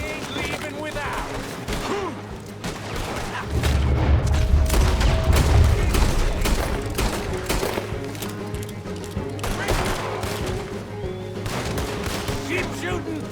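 A gunfight in the Western game Red Dead Redemption II, with rapid volleys of gunshots, booming blasts and a dense fusillade of rifle and pistol fire that rises to a loud, sustained barrage, and voices shouting over the shooting.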